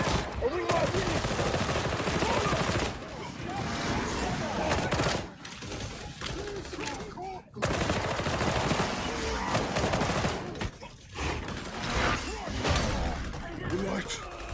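Rapid bursts of gunfire from a Warhammer 40k video game fill the scene, loud and continuous, with a few brief pauses between volleys and game voices mixed underneath.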